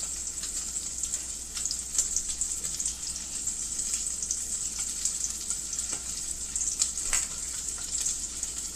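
Butter sizzling and burning in a hot pan on a gas power burner: a bright, continuous hiss with scattered crackles and small pops, steady and close, without talk.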